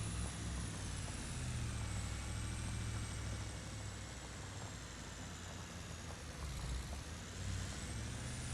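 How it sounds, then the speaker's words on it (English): A pickup truck hauling a trailer on a farm gives a steady, loud engine drone with low rumble and road noise, running continuously throughout. "I should be able to pull that stinking trailer with this truck."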